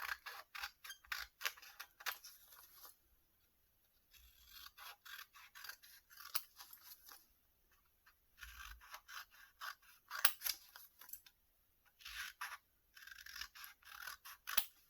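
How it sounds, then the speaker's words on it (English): Scissors snip through paper for a junk journal, a quick series of close crisp cuts in bursts with short pauses between them, alone without talk. "I'm going to cut a square"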